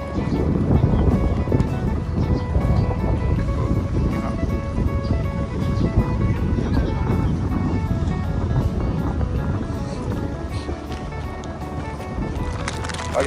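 A boat carrying a small group heads out on the sea off Bang Saen, its engine and hull noise mixing with steady wind and splashing waves in a continuous rush.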